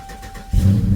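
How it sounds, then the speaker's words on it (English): A Dodge Charger engine cranks and catches after a no-start fuel pump fix, a sudden loud low rumble settling into a steady idle, close up. "Hey, fires right up."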